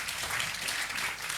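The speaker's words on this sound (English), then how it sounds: "Please give me a round of applause." An audience at a youth employment and work-abroad event applauds in a steady, even wash of clapping that stays fairly faint and distant throughout, with no one speaking over it.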